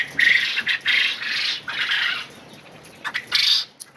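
Quails on a cold, breezy farm give shrill, rasping calls in quick bursts, several repeated close by with short gaps between them.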